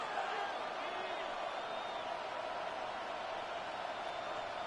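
Cheering football stadium crowd in a video game, a dense steady roar with scattered whistles and whoops, loud and continuous throughout.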